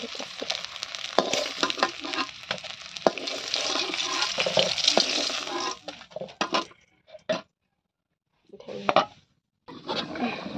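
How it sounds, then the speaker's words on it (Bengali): An egg frying in a pan gives a dense, steady sizzle with light stirring clatter for about seven seconds, then cuts into brief bursts separated by silence. "ডিমটা হলো ভাজ করে এখানে"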